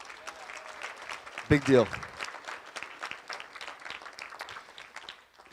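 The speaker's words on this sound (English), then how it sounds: "Hands, round of applause for pulling this off." Wedding guests give a short, loud burst of applause partway through a best man's speech at his sister's wedding, while talk continues before and after.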